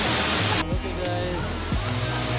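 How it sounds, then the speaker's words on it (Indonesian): Jagir waterfall in Banyuwangi, a steady broadband rush of falling water close by, with a voice talking over it partway through. "Ini dia guys, air terjun Jagir."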